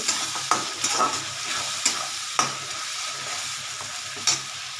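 Tomato and green chilli paste fries in a pan, a continuous near sizzle broken by several sharp scraping knocks of a spoon being stirred through it, with no voices.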